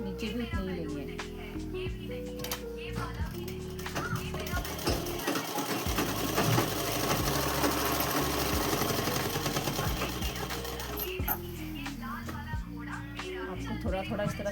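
A sewing machine stitches a folded hem on a simple dress in a steady, close run of mechanical whirring that shifts in pitch as it speeds up and slows, with a short pause partway through.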